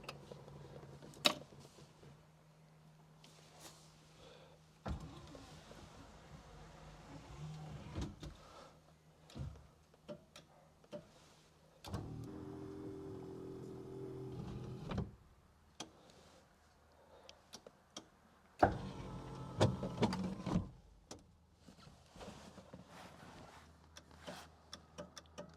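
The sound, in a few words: Rolls-Royce Corniche electric windows being operated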